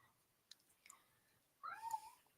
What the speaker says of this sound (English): And I heard whichever cat that was.